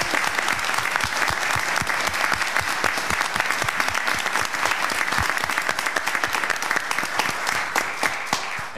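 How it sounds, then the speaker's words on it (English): A room of attendees at a school board meeting gives a steady, dense round of applause that runs unbroken from start to finish, with no talking over it. "let's give a nice round of applause for"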